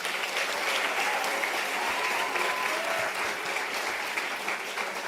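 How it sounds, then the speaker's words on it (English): A conference audience at the 10th Annual Cyber Psychology Conference cheering and applauding young innovators, a dense, steady wash of clapping from a large crowd that holds evenly for the whole stretch. "Can we have a louder cheer for them?"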